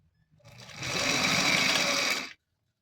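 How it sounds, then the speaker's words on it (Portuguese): A domestic sewing machine stitches bra fabric in a steady straight-stitch run of about two seconds, rising quickly to a loud, even whirring buzz and stopping abruptly, with no talk over it. "Eu vou costurando, puxando, porque a máquina doméstica não puxa legalzão, não."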